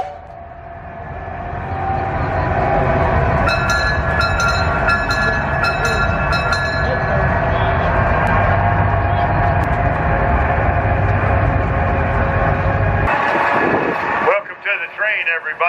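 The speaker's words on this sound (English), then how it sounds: "Welcome to the train, everybody." A passenger train rolls along steadily, with a continuous rumble and clatter of wheels, heard from on board as it moves, and someone talking over it before the noise cuts off near the end.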